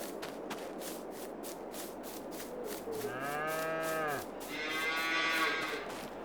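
Cattle at a feeding area in a farming video game give out two loud, drawn-out moos one after the other, over steady background ambience and a regular rhythmic ticking.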